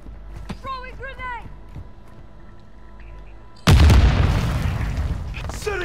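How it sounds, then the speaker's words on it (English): A thrown grenade goes off in a modern warfare video game, one loud, sudden blast whose rumble trails away, following a few seconds of quieter game sounds and a short voice line. "Throwing grenade!"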